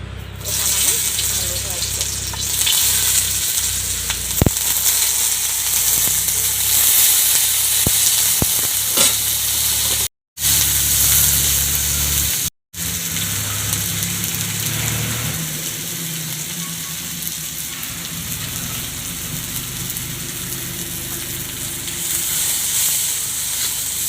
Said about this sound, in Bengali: আমি এখন আলু ভাজার জন্য আবারও সর্ষের তেল নেব